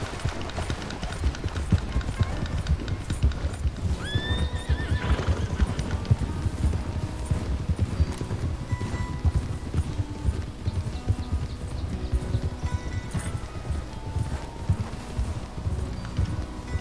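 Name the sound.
horse neighing and hooves clip-clopping in Red Dead video game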